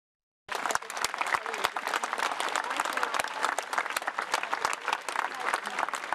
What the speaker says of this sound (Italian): Un lungo e corale applauso ha accolto l'immagine di Nostra Signora dei Miracoli al suo arrivo sul piazzale della chiesa parrocchiale di Cicagna